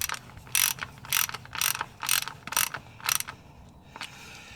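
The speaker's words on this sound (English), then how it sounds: "we're going to use our 10mm Allen bit to secure this in place." Close ratchet clicks in about six short, even bursts as a 10mm Allen bit drives a fill plug into a Jeep JL Wrangler or JT Gladiator transfer case, each burst loud and sharp before a quieter tail.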